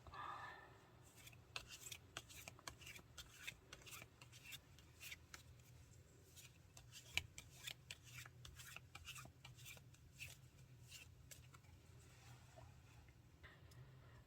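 Tarot cards being shuffled by hand, a steady run of soft, quick riffling and sliding card taps close by, fairly quiet and continuous with no talking.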